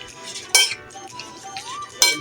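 A utensil stirs water spinach (kangkong) with four eggs, making soft scraping motion punctuated by two sharp, close metallic clinks against the bowl or pan.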